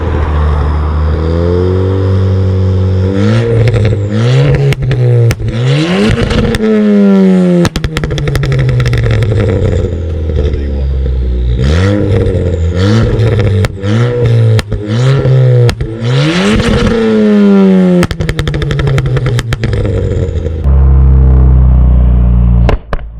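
A Ford Fiesta ST with a TRS Stage 2 tune at 250 bhp revs repeatedly, the engine note climbing and falling in loud, close sweeps, with sharp exhaust pops and bangs crackling as each rev drops back.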